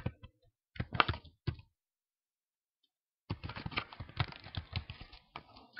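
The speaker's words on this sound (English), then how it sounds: "Oh dear, making a right mess with my typing here." Fast typing on a computer keyboard while entering Excel macro code, bursts of crisp close key clicks, then a pause of about two seconds and a longer dense run of keystrokes.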